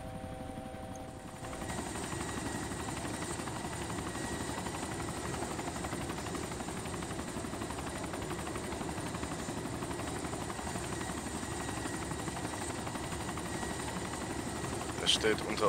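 A helicopter in the survival game DayZ flies with a constant loud rotor drone and engine whine throughout, while players talk over it.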